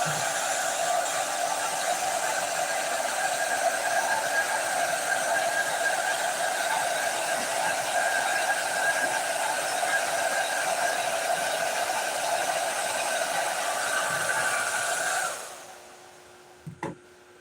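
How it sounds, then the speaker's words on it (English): A hair dryer blows heat onto fresh paint in a steady, close whirring hum that cuts off near the end, leaving a couple of faint knocks. "Hair dryer heats it up and dries it just fine."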